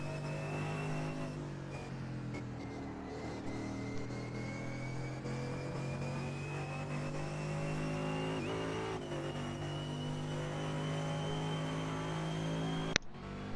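Race cars at very high speed through the fast final turns of a road-racing circuit, a loud, sustained engine drone holding steady pitch for the whole stretch with a sharp click near the end.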